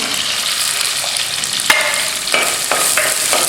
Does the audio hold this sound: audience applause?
no